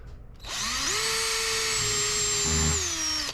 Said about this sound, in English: I want to pre-drill for these lag screws that they gave me